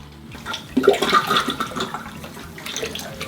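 A siphon sucking water up while cleaning gravel in an aquarium of an aquaponic system, a close gurgling, rushing slurp that swells after a moment and continues unevenly.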